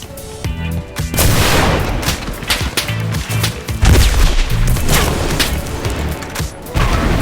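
Dense gunfire from a Gewehr 41 rifle and Panzerfaust in the WW2 video game Enlisted: loud, continuous battle noise with overlapping shots, heavy booms and rumbling blasts throughout, no pauses and no talk.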